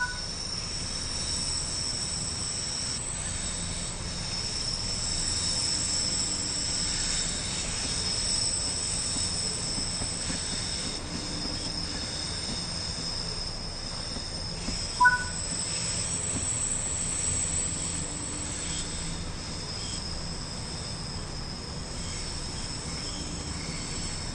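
Train ride in Train Sim World 3 on the Cathcart Circle Line: a steady, even rolling rumble with a constant high hiss and a single sharp click partway through.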